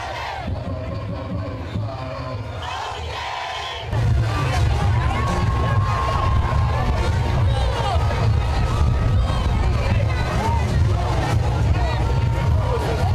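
A dense parade crowd cheering at Boxing Day Junkanoo, a continuous loud roar of many voices that swells sharply partway through, with a voice talking over it.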